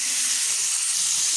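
Chicken meat dropped into hot oil in a pan, producing a steady, loud hissing sizzle close by with no talking.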